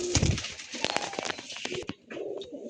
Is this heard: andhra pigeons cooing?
yes